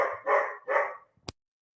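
A puppy gives two or three close, loud barks in quick succession, followed by a short pause and a sharp click.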